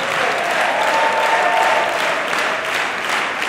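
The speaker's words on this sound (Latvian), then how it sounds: "Paldies skatītājiem par aplausiem!" Sustained applause from a large audience at a folk dance festival concert, dense and steady clapping filling the whole stretch without pause.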